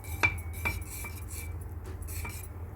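Spoon stirring semolina milk pudding with vanilla and a little butter in a pot, giving a few distinct metallic clinks and scrapes against the pot at a steady pace over a low background hum.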